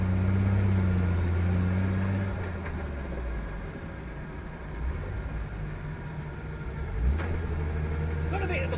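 A GM 110 V6 Vortec engine, a swap project, runs for the very first time with a steady mid-pitched idle, loud and close, dipping slightly then picking up again, with people talking over it.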